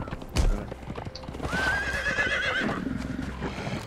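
A horse in the video game Conan Exiles clip-clops along and lets out a clear whinny midway, hooves steady beneath, with no talk over it.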